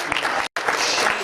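Many hands clapping together at a Calabasas Chamber talk, a dense continuous burst of audience applause that breaks off briefly before resuming.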